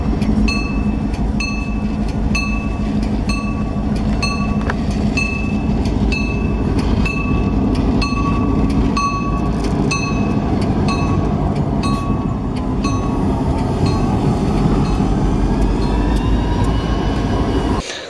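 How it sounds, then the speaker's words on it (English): Freight train cars being switched at the point, a continuous loud rolling clatter of heavy wagons with repeated metallic clanks and ringing squeals throughout, no talk. "They broke the train, meaning they were switching at the point."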